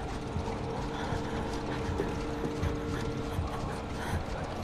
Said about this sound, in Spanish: Una máquina de coser de pedal, no reconozco la marca, pero he visto muchas parecidas.